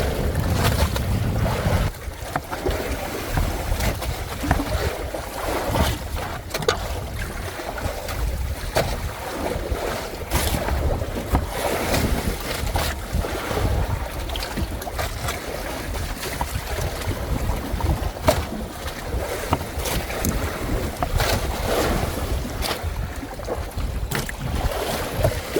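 Strong typhoon wind roars and buffets steadily at close range, with rough gusty bursts and rushing noise that continue throughout.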